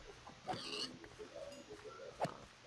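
Pigs in the video game Minecraft oink and grunt in a few short, separate calls, one sharper squeal-like grunt near the end, heard fairly close over quiet game ambience.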